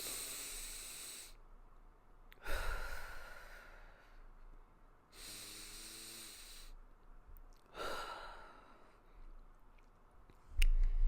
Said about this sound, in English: Let's do some deep breathing.